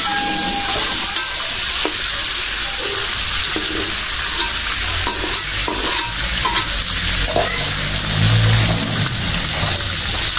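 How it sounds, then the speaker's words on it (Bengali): Cauliflower frying in hot oil gives a steady, loud, dense sizzle and crackle that runs unbroken throughout, with faint stirring knocks and no voices. "ফুলকপি ভাজা হয়ে গেছে, উঠাই নেই।"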